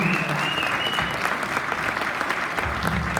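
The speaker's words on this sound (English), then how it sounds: "Give a round of applause" An audience at a social gathering claps together in a steady burst of applause, dense and close throughout, with no talking over it.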